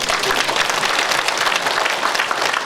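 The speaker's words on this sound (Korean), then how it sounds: "한반도 정세와 미래의 한국이라는 주제를 발표해 주신 우리 조갑재 선생님께 큰 박수를 부탁합니다." Sustained applause from a lecture audience fills the room, a steady wash of many hands clapping at even loudness throughout.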